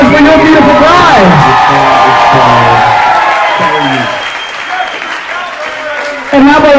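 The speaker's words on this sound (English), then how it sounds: "Give a nice big round of applause." Wedding guests at the Popponesset Inn in Mashpee, Cape Cod applaud the bridal party, loud sustained clapping from a close crowd with a voice over the PA, fading partway then swelling again.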